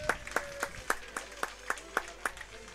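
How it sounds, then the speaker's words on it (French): Sharp, evenly spaced claps ring out about every quarter second, fairly faint, at a youth world pétanque championship final as a player is welcomed. "On va accueillir sous vos applaudissements"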